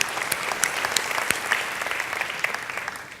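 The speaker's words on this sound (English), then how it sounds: "So a round of applause for Nick, please" Applause from a conference audience, steady, moderately distant clapping with a few sharper claps standing out, fading slightly toward the end.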